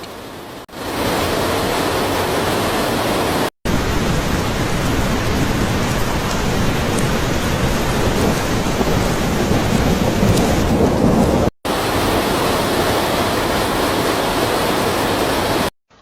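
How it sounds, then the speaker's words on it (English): Torrential rainstorm with floodwater in Tongwei County, Gansu, China, a loud, dense, unbroken roar of rushing water and pounding rain that cuts out briefly twice, with no voices. "Extremely heavy rainstorm also occurred in Tongwei County, causing local disaster."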